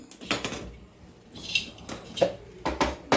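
A pan being set down on a stovetop before roasting urad dal for sunnundalu, with several sharp metallic clanks and clinks of cookware spread across a few seconds, close and moderately loud.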